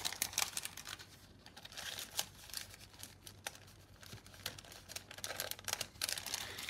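A hand rummages in a plastic bag, making soft, irregular crinkling and rustling bursts close to the mic, fairly quiet, with no speech.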